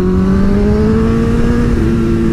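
A motorcycle engine revving close by, a loud continuous drone that slowly rises in pitch over a couple of seconds, with no voices.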